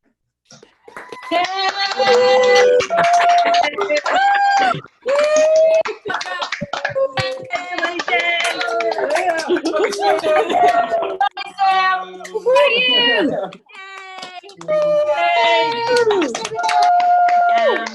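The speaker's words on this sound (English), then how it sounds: "give them all a big hearty cheer" An online audience of friends, family and students at a university architecture and interior design graduation cheers through open microphones, many overlapping voices shouting loudly and continuously with some clapping mixed in.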